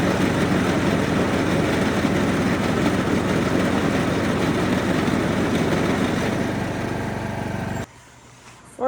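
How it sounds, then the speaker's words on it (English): A John Deere D110 riding lawn mower runs close by with a steady, loud engine drone and a dense clatter from its bent blades, holding constant for about eight seconds before cutting off abruptly. "We're under the John Deere D110 trying to figure out where this clattering sound is coming from"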